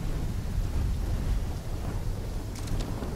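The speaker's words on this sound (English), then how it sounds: "When the full force of the storm hits, we'll be looking at 150 mile per hour winds" A thunderstorm in the video game Call of Duty: Black Ops III, a loud continuous low rumble of thunder with rain and wind, steady throughout with a slight dip midway.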